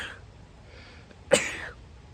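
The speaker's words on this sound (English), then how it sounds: "I gotta sneeze." A single sharp sneeze bursts out near the microphone after a quiet moment, then trails off briefly.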